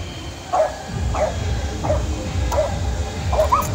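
Several short dog barks or yips repeat at a steady pace against a busy outdoor street background with crowd noise, on a car-free Sunday along Ayala Avenue in Makati.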